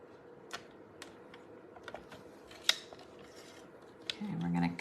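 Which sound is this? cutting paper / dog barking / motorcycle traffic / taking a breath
cutting paper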